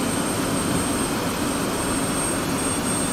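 A jet engine in the DCS World flight simulator, set in the Persian Gulf, running right after fuel is introduced at about 20% RPM, giving a steady, loud broadband roar with a thin high whine holding throughout, no voices.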